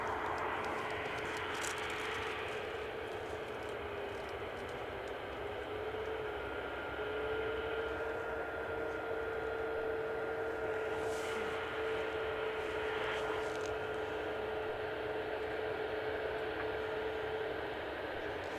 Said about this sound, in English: Ryanair from Copenhagen is definitely well into finals